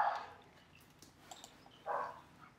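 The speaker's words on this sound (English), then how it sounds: "that's Frankie in the background, my dog." A pet dog barks in the background indoors while a WORX electric edger is being unboxed. Two short, separate barks about two seconds apart sound faint and distant in an otherwise quiet room.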